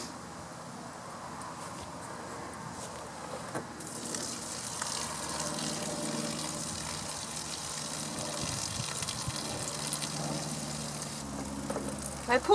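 Hot water drains from the water heater tank of a 1974 Silver Streak travel trailer, a continuous rushing gush with a low engine-like hum beneath, steady throughout and growing slightly stronger toward the end.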